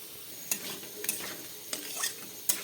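Yogurt masala for a dahi katla fish curry sizzling in a pan while being stirred, with a steady hiss and several sharp scrapes of the ladle at irregular intervals; no talking.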